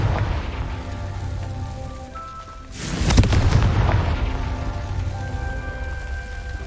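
A Confringo fire spell from Hogwarts Legacy bursts once at mid-clip, a sharp loud blast with a rumbling tail over quiet ambient game music and no talking.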